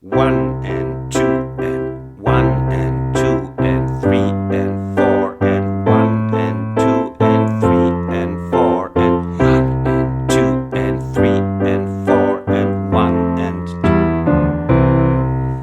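Easy ballad-style piano accompaniment, chords repeated in steady eighth notes while a voice counts the beats aloud over the playing.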